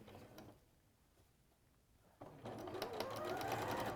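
A domestic sewing machine stitching a cushion runs in a fast, close, rhythmic mechanical whirr after a short quiet pause, with faint clicks beforehand.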